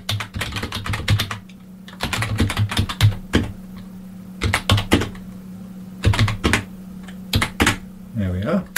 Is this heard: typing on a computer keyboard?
yes